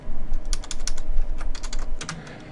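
Rapid, close clicking of computer keyboard keys while HTML code is typed, in two quick bursts with a short pause between them, no talking.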